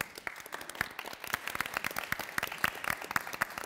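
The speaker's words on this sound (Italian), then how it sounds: "un grande applauso insieme" Group applause at an Assisi gathering, a scattered crowd clapping unevenly with distinct individual hand claps spread through the whole short stretch at moderate volume.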